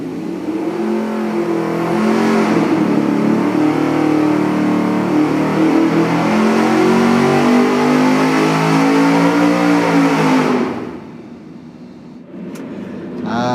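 A loud car engine fitted with a straight-through muffler revs hard and holds a raspy, droning roar for about ten seconds, then drops to a lower idle rumble.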